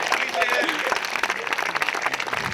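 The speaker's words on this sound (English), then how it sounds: "Big round of applause for Drew." Wedding guests clapping after a speech at a reception, a full burst of steady applause from a nearby crowd lasting a couple of seconds.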